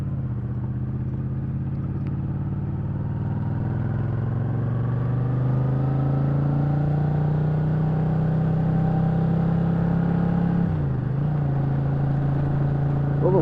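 An old car engine revs steadily under strain, its drone rising gradually in pitch, then briefly dips around a gear change before settling again; heard close and continuous without speech.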